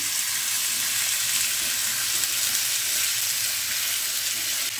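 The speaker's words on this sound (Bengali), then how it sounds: "এবারে আলুটা ছেড়ে দেব। একটু নেড়ে দিই।" Potatoes with sesame seeds sizzle steadily in a hot pan over a constant, even hiss of frying, with faint stirring movement beneath. There is no talking.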